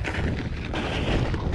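Steady wind roars and buffets against the microphone while cycling up a meadow, a dense broadband rush with no voices.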